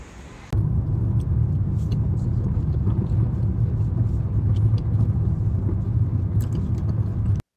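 Inside a Didi ride-hailing car heading to a bus stop, a steady low road rumble and engine hum fill the cabin, starting abruptly and continuing evenly, with no talking.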